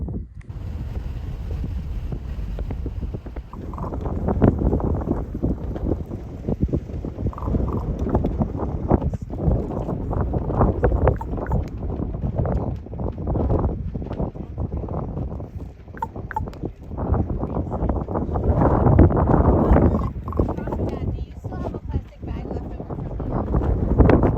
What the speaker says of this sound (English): So the wind got really bad here, so I'm just going to do some post-narration.